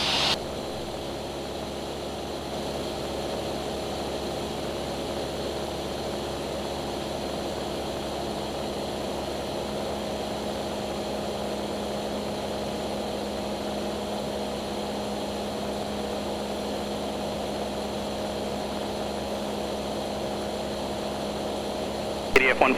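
Steady, continuous engine drone of a small propeller training airplane flying the airport traffic pattern, with a constant hum throughout and no spoken words.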